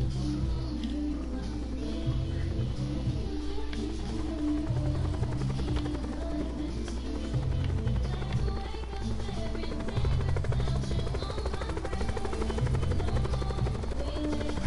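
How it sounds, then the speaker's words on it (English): The thudding chop of helicopter rotors in the game Call of Duty: Black Ops pulses continuously, a low rhythmic beat that stays loud and steady, with occasional voices underneath. "Let's see if I know how to drive a helicopter."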